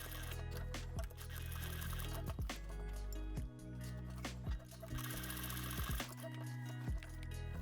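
A sewing machine stitches a bar tack on pants, running steadily and loudly with short stops and restarts as it stitches back and forth, close up and without talk.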